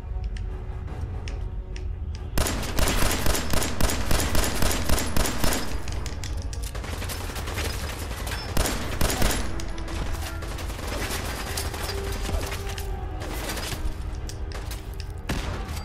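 Pistol fire rings out in the video game Fallout, with a rapid rhythmic string of sharp, loud shots and scattered single bangs over dense game noise and effects.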